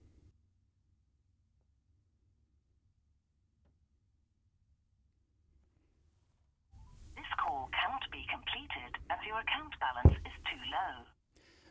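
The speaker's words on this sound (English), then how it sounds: "So what I got it to do there is make a phone call." A phone dialing out and placing a call triggered by a Rubber Ducky script on a mobile device, silence then a burst of electronic tones and call audio with a click, up close.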